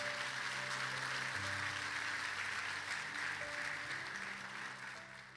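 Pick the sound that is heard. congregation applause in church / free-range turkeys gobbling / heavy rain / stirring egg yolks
congregation applause in church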